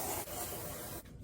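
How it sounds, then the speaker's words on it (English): A can of Dove Advanced Care dry spray deodorant gives one steady, hissing spray burst lasting about a second, close to the microphone, then stops abruptly; no talking. "It's Dove Advanced Care Dry Spray."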